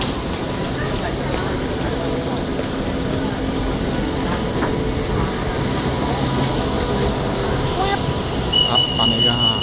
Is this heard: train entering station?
yes